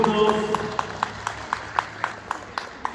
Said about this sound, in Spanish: Fuerte el aplauso para nuestros alumnos